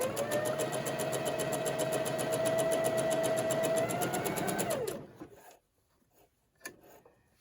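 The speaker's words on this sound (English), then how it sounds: "a great way to sew straight is not to watch the needle. Just watch the lines." A sewing machine stitches a seam on a Christmas table runner with a fast, even whirring rhythm for about five seconds, then stops, followed by quiet handling clicks.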